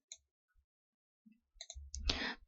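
A few faint, sharp clicks from a computer mouse in a quiet room are followed by a brief burst of rustling, with long silent gaps between them.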